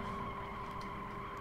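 A Toyota Prado's tires squeal during drifting in a driving crash-test setting, a faint, sustained screech with engine noise running steadily throughout.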